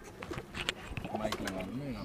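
Pigeons coo in a fancier's loft, a domestic show breed, with low rolling coos mixed under nearby men's conversation.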